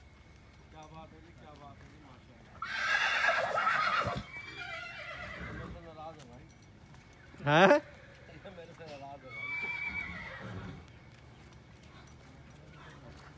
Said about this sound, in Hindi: देख भाई महाराज घोड़ा